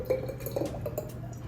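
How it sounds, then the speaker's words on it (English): Caesar salad dressing is poured into a glass jar, giving soft glugging drips and faint clinks in a quiet kitchen. "Then I'm gonna load this up into a jar."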